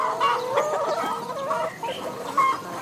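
Free-range hens on an open farm cluck and chatter in a busy, overlapping flock, close and fairly loud, with no other sounds over them.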